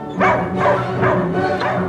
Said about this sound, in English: As soon as I put my hand on the kettle, once it's boiled, he starts barking.